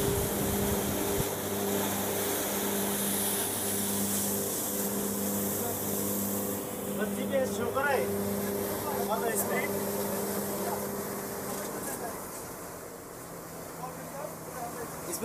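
The launch Bogdadia-9 on its river trial on the Buriganga with a newly fitted engine, a steady low engine drone and hum running throughout at speed, with voices talking over it.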